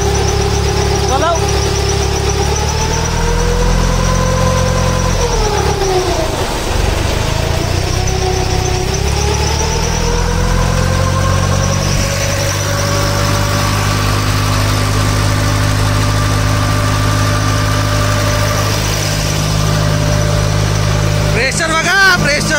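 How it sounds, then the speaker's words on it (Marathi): A vehicle engine idles steadily in a loud, close drone, its pitch dipping briefly and then holding, while people talk over it. "प्रेशर बघा, प्रेशर पावर आहे इंजिनमध्ये, पावर आहे"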